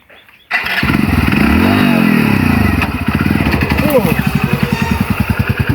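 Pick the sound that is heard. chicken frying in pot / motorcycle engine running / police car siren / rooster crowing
motorcycle engine running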